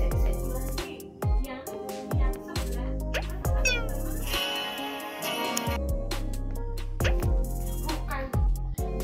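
Cat meowing in a picture-guessing game, a run of short repeated meows with sharp percussive hits and musical tones around them, fairly loud and close.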